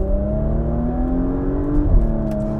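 A Porsche Macan GTS with 380 hp and a seven-speed PDK gearbox revs hard toward 7000 rpm, its engine note climbing steadily in a loud, continuous drone with a brief shift-like dip near the end.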